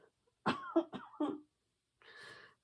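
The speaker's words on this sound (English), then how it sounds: "So you will hear me cough." A person with asthma coughs in a short burst of several harsh hacks, then a breathy clearing sound after a brief pause, close and otherwise quiet.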